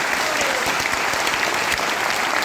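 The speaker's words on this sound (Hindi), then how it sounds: "अगर आपको ये चाहिए तो ताली बजा सकते हैं" An audience at a business training seminar applauds with dense, steady clapping that is loud and close and lasts the whole stretch, with no talk over it.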